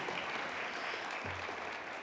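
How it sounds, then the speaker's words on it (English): An audience applauds a piano player and jazz combo at a celebration event, a short, even wash of crowd clapping, fairly soft and steady from start to finish. "Give another round of applause for our piano, for our incredible combo folks"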